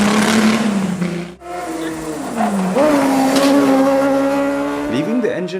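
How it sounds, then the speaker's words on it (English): Race cars at a hill climb race in Mount Victoria Park, engines loud and close, droning steadily and then rising in pitch as cars accelerate past, with several distinct revving swells. "much to our surprise, we got to watch a hill climb race"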